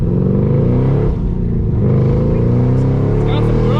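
A Mazda RX-7 FD rotary engine pulls hard and loud from inside the car, its steady rising drone filling the whole stretch while someone talks over it.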